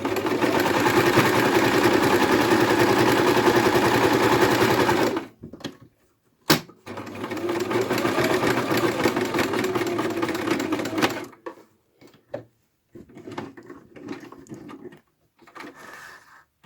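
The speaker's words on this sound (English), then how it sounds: "I think I'm only going to stitch this way and then I will be finished." A sewing machine stitches lace and trim scraps in a steady, close mechanical whir, running continuously for several seconds, pausing briefly, then resuming before stopping, leaving a few faint clicks and handling sounds.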